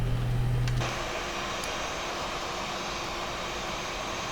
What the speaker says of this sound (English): Now we'll wait for them to disconnect while we spool up the other engine.